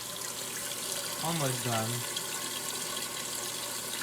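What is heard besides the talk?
washing machine filling with water for rinse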